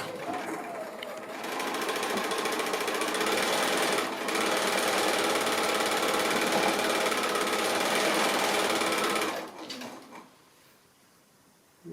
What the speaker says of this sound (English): You can chain piece them through.